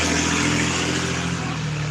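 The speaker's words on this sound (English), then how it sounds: "People driving by with loud-ass cars." A loud car drives by during a thunderstorm, its engine a close, steady rumbling roar that fills the brief moment.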